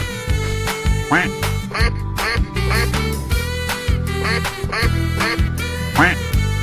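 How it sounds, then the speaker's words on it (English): Cartoonish duck quacks repeat over bouncy video game music in a 3D animal slide game, several bright quacks in quick succession among playful sound effects. "Quack."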